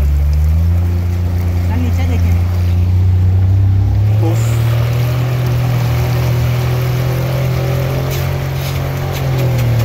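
A Hummer H2 pushes through deep water on a rescue run, its engine giving a loud, steady drone with sloshing water and rumble throughout, while people talk over it.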